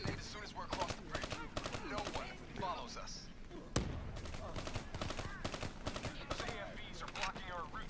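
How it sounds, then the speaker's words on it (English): Gunfire from a video game campaign: rapid bursts of sharp shots repeat in clusters, with one louder crack midway, while players talk over the top. "I'm shooting Hendrix"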